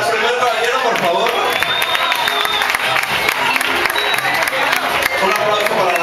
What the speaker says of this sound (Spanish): Un aplauso para el primer caballero, por favor.